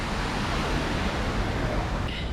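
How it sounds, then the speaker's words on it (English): Water pours down a set of stairs along the San Antonio River Walk, making a dense, steady rushing roar that sounds close and fills the whole clip. "Here's a nice waterfall down those stairs."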